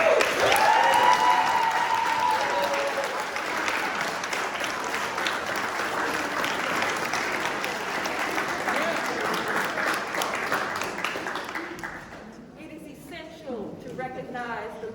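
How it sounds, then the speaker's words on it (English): A room full of people applauds the teachers standing among them, loud dense clapping with some cheering that holds strong for about twelve seconds, then tapers off into scattered claps and murmuring voices. "you're going to give them a great round of applause."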